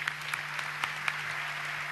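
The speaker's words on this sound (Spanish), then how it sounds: "Un fuerte el aplauso para él" Applause greets the government cabinet chief at an official presentation of the 2014 Brazil World Cup broadcast, a steady wash of clapping from an audience that runs the whole time at a moderate level, with a few sharper claps standing out.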